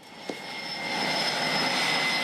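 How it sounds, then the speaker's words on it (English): A jet aircraft engine roars on an aircraft carrier deck, a loud sustained whine and rumble that swells slightly, with a brief knock near the start. "Launching and recovering jets, helos, and a variety of other planes that help take the fight to the enemy."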